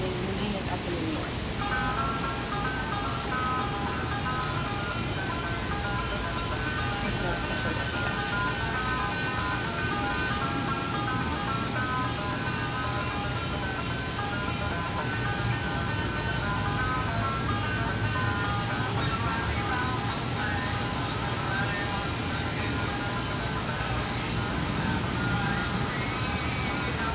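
A snippet of a Union Civil War song plays continuously as a thin, melodic tune over a steady layer of hiss and noise, without pauses.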